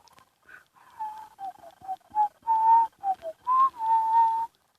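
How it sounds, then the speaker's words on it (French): A person whistling a short tune alone, with a series of clear, close notes that rise and fall, some held longer, in a quiet setting. "J'arrête de siffler dans les vidéos, c'est chiant."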